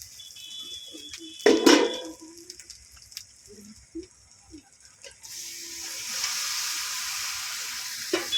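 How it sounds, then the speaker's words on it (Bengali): Desi chicken pieces drop into spiced oil in a pan with a clatter and brief stirring, then a steady, bright sizzle of frying settles in and holds. "এবার আমি মাংসগুলো দিয়ে দেবো।"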